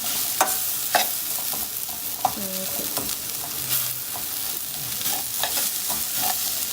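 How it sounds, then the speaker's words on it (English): Rice sautés in a hot pan with a Knorr tomato cube while it is stirred. A steady sizzle of frying runs throughout, with the scrape and clack of a spoon against the pan now and then. "we're gonna go ahead and put the cube of Knorr Tomate. And then kind of saute it."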